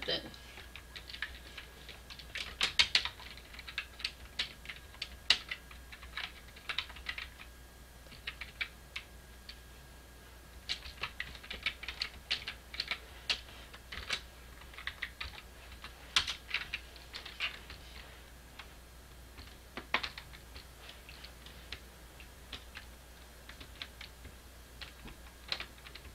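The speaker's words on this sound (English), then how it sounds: "And let's just type something." Typing on a computer keyboard, a steady patter of light key clicks that runs on and off in short bursts for the whole stretch, fairly close, with a faint background hum beneath.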